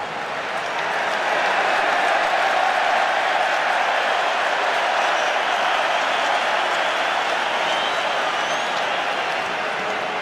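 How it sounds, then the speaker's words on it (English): Large stadium crowd roars and cheers at a Wales versus New Zealand rugby international in 2012, a loud, sustained wash of voices and clapping that swells early and holds steady throughout. "That's the biggest cheer we've heard from the crowd for a while."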